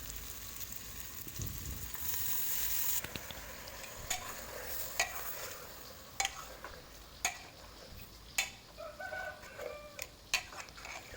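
Chicken pieces for a Mangalorean koli saar or sukka sizzle in a pan, with steady frying hiss early and a series of sharp, distinct clatters and scrapes of stirring later.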